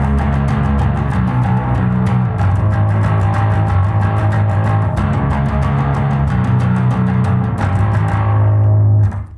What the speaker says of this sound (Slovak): toto kombo má samozrejme svoj ešte gain alebo nejaké skreslenie interné